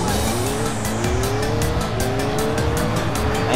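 Race cars in Sonic & All-Stars Racing Transformed roar steadily at close range, engines rising in pitch through a continuous loud drone, with tire squeal layered over the top and no voices.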